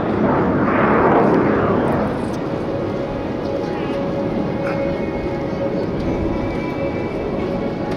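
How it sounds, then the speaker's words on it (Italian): Aermacchi MB-339 jet performing a solo display at the Jesolo air show, a loud broad jet roar passing close then holding steady in the distance, with an Italian commentator talking over it throughout. "Da sinistra intanto arriva ancora una volta il nostro solista a toccare le corde del nostro orgoglio nazionale, perché è tutto italiano l'MB339"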